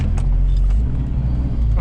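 A 4WD car driving fast around a roundabout, a loud, heavy low-frequency engine and road rumble that holds steady throughout, with a few faint higher thumps over it.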